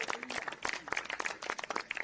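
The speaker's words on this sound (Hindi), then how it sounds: "ताली मारिए प्रभु के लिए।" A church congregation applauding for the Lord during a Hindi sermon, a brief, fairly faint spatter of many hands clapping at once.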